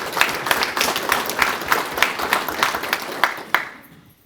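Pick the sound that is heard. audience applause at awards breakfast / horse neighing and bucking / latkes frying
audience applause at awards breakfast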